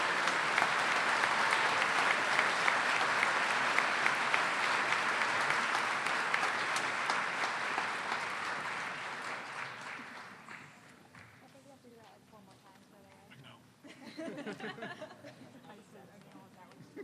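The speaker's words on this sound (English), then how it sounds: "let's give these folks a round of applause" Sustained audience applause fills a school awards ceremony after students are named for achievement awards, loud and dense for about ten seconds before fading into scattered claps, murmuring chatter and a brief renewed burst of clapping.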